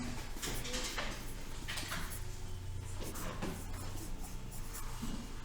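A pen writing on paper while a place value chart is drawn, heard as faint, close scratchy strokes in short bursts over steady background hum.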